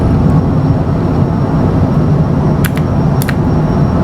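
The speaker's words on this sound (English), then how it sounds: "Landing gear is up. And we'll fly straight into New York here." An airliner climbing out after takeoff in a flight simulator game, giving a steady, loud, broad roar that holds unbroken from start to finish, with a couple of faint high clicks partway through.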